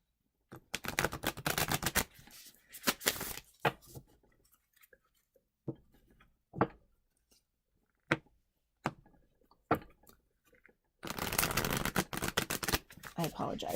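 A thick, oversized tarot deck is shuffled in sections on a shaky table, giving long riffling bursts at the start and end with scattered sharp card taps and slaps in between, close and fairly quiet.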